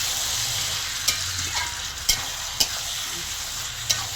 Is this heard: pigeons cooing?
no